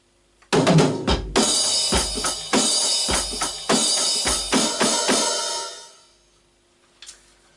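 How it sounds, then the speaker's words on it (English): A drum kit plays a slow groove of snare hits with crashing cymbals, ending on a quick triple snare, a pattern from a song played slower than the original; the ringing cymbal fades out, followed by a single faint tap. "There's cymbal crashes to accompany the snares, and then there's triple snares at the end."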